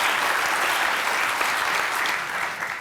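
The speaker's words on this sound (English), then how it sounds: "Just give her a round of applause." A room full of people gives a round of applause at a college talk, dense continuous clapping that holds steady then starts to thin toward the end, with no speech.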